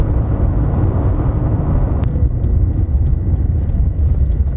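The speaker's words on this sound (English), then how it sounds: "chucking it into sport mode and it downshifts for you" A Citroen Xantia V6 car in sport mode gives a loud, steady engine and road roar from inside the cabin, with a brief click partway through as it downshifts.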